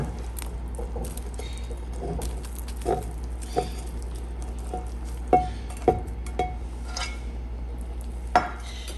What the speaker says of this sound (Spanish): ahora lo que voy a hacer es agregarle mi huevito con nopales